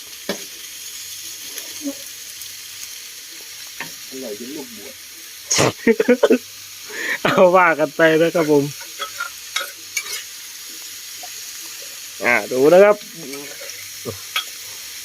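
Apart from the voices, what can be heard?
stir-frying chicken offal in pan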